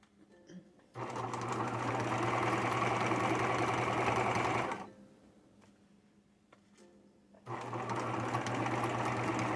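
Sewing machine stitching a patch onto jeans, a close, steady motor hum and needle chatter that runs for several seconds, pauses briefly, then starts again.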